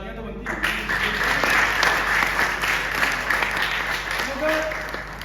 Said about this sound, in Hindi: लिस्ट बहुत लंबी है, तालियां तो बनती हैं।